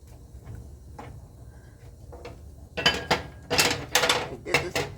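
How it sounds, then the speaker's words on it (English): A spoon stirring potato soup in a pot starts after a quiet stretch of faint kitchen noise, then brings a loud cluster of clanks and scrapes against the pot. "I'll get a spoon and I will stir it up and turn the burner on"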